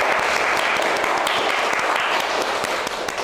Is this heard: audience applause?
yes